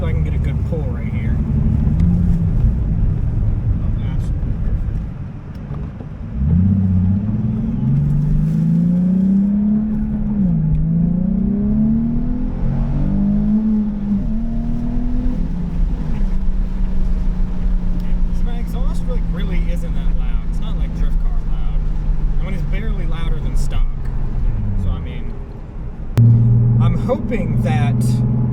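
A street car on BC coilovers pulls hard through the gears in a parking lot, engine note climbing and dropping with shifts in a loud, close roar, with brief talk at moments.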